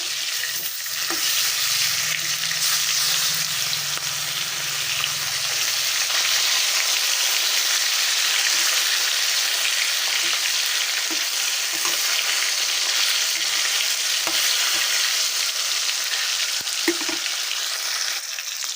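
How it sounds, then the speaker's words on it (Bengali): Pieces of rohu fish fry in hot oil in a wok with a loud, dense, continuous sizzle, and light scraping and stirring clatter through it. The sound is close and unbroken, with no voices. "মাছগুলো এখন আমি সুন্দর করে লাল লাল করে ভেজে নেব।"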